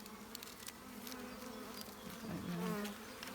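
A dense, continuous buzz of a swarm of bees, close and steady, swelling slightly louder toward the end.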